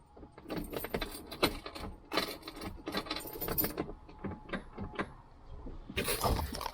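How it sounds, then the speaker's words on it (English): Rapid, irregular mechanical clicking from the starter solenoid of a 1963 Mercury, a dense chatter of sharp ticks that pauses briefly and then returns louder. "That's definitely a starter solenoid"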